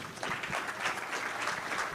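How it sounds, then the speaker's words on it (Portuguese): A lecture audience gives a brief, fairly quiet round of clapping for a speaker at a talk on zebu cattle, a short even patter heard alone. "Gente, vamos aplaudir o Roberto Sainz."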